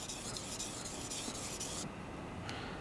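A knife's secondary bevel is stroked across a whetstone with a continuous gritty scraping that stops abruptly near the end, followed by one short light scrape, close and alone.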